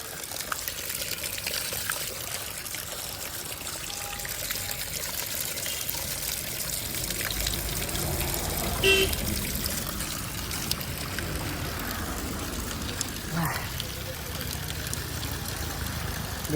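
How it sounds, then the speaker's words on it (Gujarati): Cool water runs steadily from a tap at a roadside stop, a continuous splashing flow that carries through the whole stretch with faint background voices. "ફેક્ટરી કરતા ટાઢું પાણી અહીંયા આવે"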